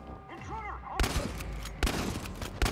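Gunfire in the video game Chernobylite: after a quiet start, several sharp loud shots burst out at irregular intervals, close and punchy, with a voice faintly underneath.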